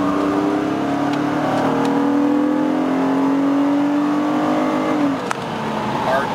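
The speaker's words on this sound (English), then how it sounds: "accelerating up off the corner" A race car accelerates off a corner on the Battle at the Beach track, its engine note rising steadily in pitch for several seconds before a quick gear change, heard close and loud.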